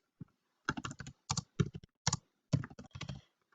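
Fingers tap out a short name on a computer keyboard, close and crisp, in several quick bursts of keystrokes separated by brief pauses.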